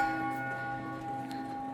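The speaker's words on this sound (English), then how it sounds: "the wonderful church bells" Church bells ring on a walk through an old Vienna street, a steady sustained metallic tone with humming overtones holding throughout, moderately distant under a faint outdoor background.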